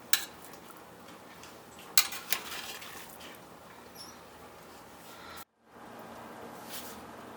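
Mutton dum biryani being stirred in a pressure cooker, with a few sharp metal spoon clinks against the pot and soft scraping rustles between them, fairly close, no talking.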